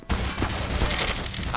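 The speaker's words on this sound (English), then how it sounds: "They activate the turret." An automated turret in Black Mesa opens fire, a dense rapid burst of gunfire filling the whole moment, loud and close.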